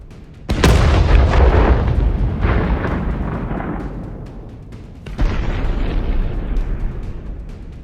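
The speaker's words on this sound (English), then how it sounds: "causing an explosion." Ammunition cooking off inside a hit Russian armored vehicle: a loud, sudden blast that roars and slowly decays, followed seconds later by a second explosion, both booming and close.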